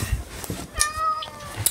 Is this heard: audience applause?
no